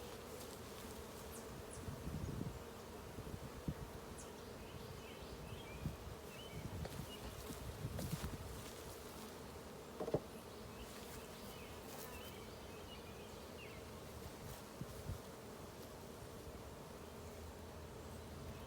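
Honeybees buzz around an open hive during a spring inspection, a faint continuous drone with occasional closer passes and soft rustling and knocks of equipment, without voices.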